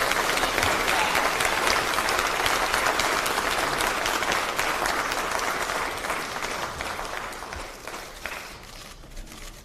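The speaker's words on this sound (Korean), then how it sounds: "여러분 오늘 박수로 맞이해주시기 바랍니다" A crowd at a party caucus meeting applauds as presidential candidate Kim Moon-soo is welcomed, loud dense clapping that goes on without a break and slowly fades toward the end. Shuffling feet and faint voices sit underneath.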